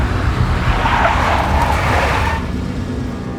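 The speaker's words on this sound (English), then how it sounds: "A big black Mercedes." A big black Mercedes in the Max Payne video game skids loudly across the pavement, a sustained screech over a heavy engine rumble that fades after a couple of seconds.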